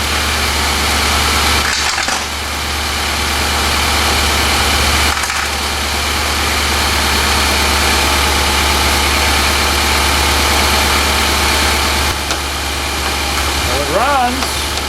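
Infiniti QX56 V8 engine, partially disassembled and recently fitted with a new alternator, idles steadily with a constant low rumble and broadband hum throughout, with brief dips in level and a short voice near the end.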